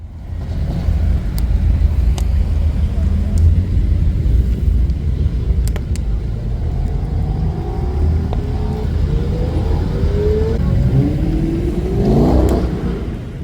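A Mercedes with a 2.3 litre four-cylinder engine pulls away at a leisurely pace at a German car day in Perth, a steady close engine rumble and whir that builds slightly toward the end, with no talk.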